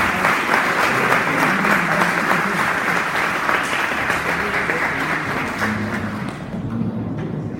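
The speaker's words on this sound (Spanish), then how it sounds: "Un aplauso, por favor." Dense, sustained audience applause at a church eschatology teaching session, steady and loud throughout before thinning slightly near the end, with no talk over it.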